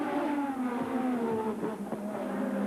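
Formula 1 cars racing through Monte Carlo at the 1987 Monaco Grand Prix, a steady high-pitched engine whine with slight pitch sweeps, moderately distant and continuous.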